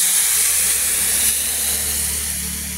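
Water poured into a hot pan of sautéed potatoes with chilli, raising a loud steady sizzling hiss that holds throughout and fades slightly toward the end.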